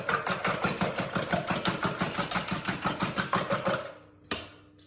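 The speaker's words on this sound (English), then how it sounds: "So we'll whisk up our 5 eggs" Five eggs are whisked briskly in a bowl for an egg bake. A fast, steady run of clicking beats lasts about four seconds, then stops, and a single knock follows. No one speaks.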